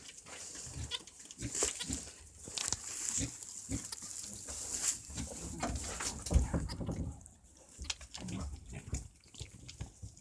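A newborn goat kid bleats in a farm setting, with repeated soft cries and animal noise over steady rustling and background murmur, fairly faint and continuous throughout.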